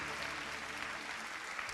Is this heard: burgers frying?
no